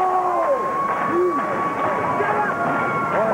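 Noisy wrestling crowd at a Great American Bash Tour event, a dense sustained roar of cheers and whistles with scattered hoots rising above it throughout.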